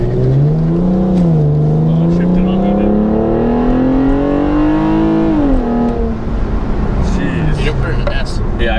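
A custom-tuned Hyundai Genesis Coupe 3.8 accelerates from inside the cabin, its engine and exhaust droning loudly as revs climb steadily, dipping at a shift before pulling again, with speech mixed in.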